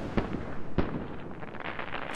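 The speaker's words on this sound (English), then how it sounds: "And this is the firework rocket launcher skin." Two sharp firework bursts, a second apart, launched from a firework rocket launcher skin in the video game ARK, followed by crackling and sizzling at moderate distance.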